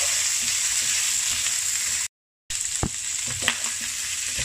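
Pork belly sautés in a pan with bay leaves, cinnamon wood and star anise, a steady loud sizzle broken by a brief gap and a few clunks of stirring, with no voices.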